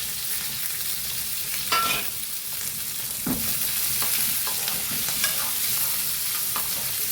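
Curry leaves, green chillies and onions with ginger sizzle loudly in hot oil in a pan, a bright steady hiss broken by a few scraping stirs of a spatula.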